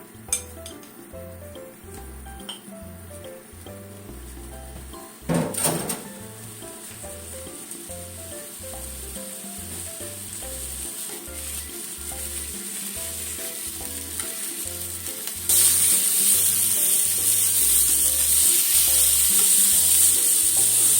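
Pork marinated in salt koji fries in a pan with steady sizzling and occasional stirring clinks, a brief louder clatter near the start, and the sizzle growing brighter and louder toward the end.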